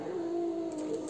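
A black cat grumbles at a white foster cat indoors, a low drawn-out moaning growl lasting about a second, faint and close, with no talk.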